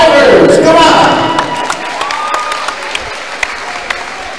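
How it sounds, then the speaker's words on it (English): A crowd at a professional boxing event applauds and cheers the fighters after a bout: loud clapping and cheers at first, fading after a second into scattered claps and light thuds, with a voice faintly over it. "a big round of applause to our fighters"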